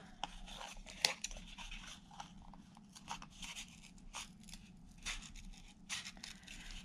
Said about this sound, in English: But I'm just going to cut it with scissors.